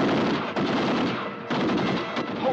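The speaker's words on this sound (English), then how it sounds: "Penguin orders his men to open fire." Rapid machine gun fire from a 1960s Batman TV episode with the Penguin's men shooting, a loud continuous rattling burst with no talking.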